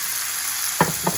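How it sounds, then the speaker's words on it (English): Tomatoes dropped into a hot pan sizzle with a steady, close, bright hiss, broken near the end by two quick stirring scrapes. "Now we're going to add the tomatoes. Wow, hear that sizzle."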